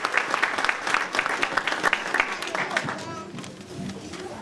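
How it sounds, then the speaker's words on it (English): An audience at a Martin Luther King Jr. ceremony applauds students with crisp, rapid clapping that thins and fades toward the end, and a few voices are mixed in. "please give our students a round of applause again"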